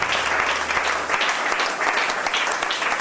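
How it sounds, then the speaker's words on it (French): A church congregation at a Pentecost service claps loudly and steadily, a dense, sustained burst of applause filling the room. "Acclamez très fort le Seigneur."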